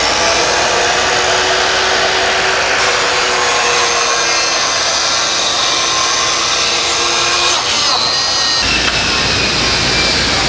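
A SawTrax panel saw runs steadily through a vertical cut, its continuous loud motor whine and blade noise holding for most of the stretch, then shifting and dropping away near the end.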